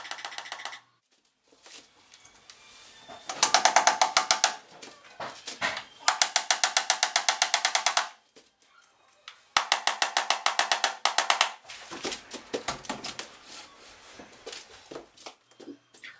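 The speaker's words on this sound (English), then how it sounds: "go ahead and nail the one side strip in place with 2 nails" Nails hammered through an interlocking weather-stripping strip into a wooden window sash, two bursts of sharp rapid taps close up separated by short pauses, with lighter tapping trailing off at the end.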